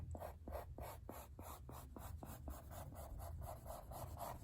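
Pencil strokes scraping across paper in a steady rhythm of short, quick rasps, about a dozen in a row, close and soft with no voices.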